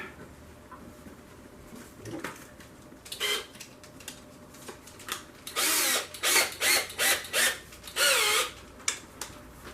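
A power drill fitted with a flapping mixer paddle stirs mead in a jug, running in short repeated whirring bursts with pauses between, close and loud.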